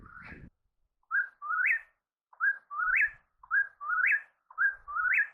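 An unidentified songbird repeats a clear whistled phrase about four times, each a short note followed by a rising slurred whistle, with brief pauses between phrases in an otherwise quiet outdoor setting.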